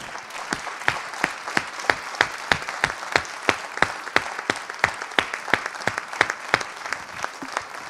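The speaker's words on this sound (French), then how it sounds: "je demande à ces hommes d'applaudir ces femmes" Men in a conference hall audience clap for the women at a debate opening, a steady rhythmic burst of loud, sharp handclaps that rises into unison beats, with no talking over it.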